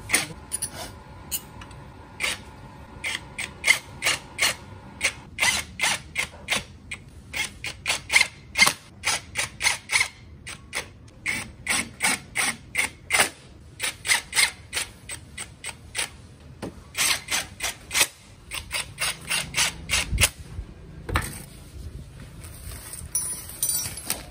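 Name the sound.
ratchet wrench tightening CVT cover bolts, Honda Scoopy FI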